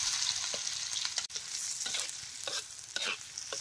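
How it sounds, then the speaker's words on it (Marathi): Steady sizzling of finely chopped onion frying in hot oil, with a few stirring scrapes breaking through the crackle. "आता ही बारीक चिरलेला कांदा बी तेलात घालायचा"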